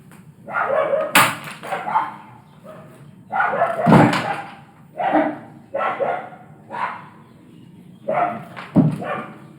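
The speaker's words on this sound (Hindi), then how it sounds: "ये ना कुत्ते भौंक रहे हैं" Dogs barking repeatedly nearby in several loud, uneven bursts with short gaps between them, heard in an indoor setting during a maths lesson.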